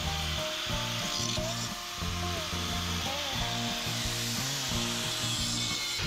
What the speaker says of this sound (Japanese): バンパーがぶつけた衝撃で微妙に歪んでるので現物に合わせて削っていきます。